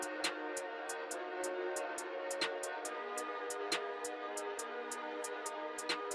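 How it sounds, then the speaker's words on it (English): An FL Studio drill beat plays, with a crisp hi-hat ticking in a fast, steady pattern over a sustained synth bed and a snare cracking at regular intervals, clean and electronic, with no voice. "the next thing I'm going to add is the hi-hat. And I'm just going to do a standard kind of drill pattern."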